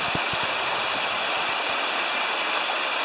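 Waterfall heard from its base, a loud continuous broadband roar and hiss of falling water filling the whole stretch, with a few low thumps early on.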